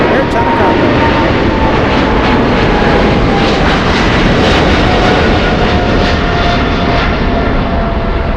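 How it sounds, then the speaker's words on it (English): An Air China Cargo freighter jet at LAX, a loud continuous roar of engines filling the whole stretch, steady and close with broadband rumble. "We have a freighter. China. Air China Cargo."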